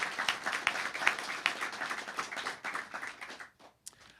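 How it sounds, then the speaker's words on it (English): Applause from an audience at a scholarship award ceremony runs as dense, steady clapping for about three and a half seconds and then stops. "let's give them a special round of applause"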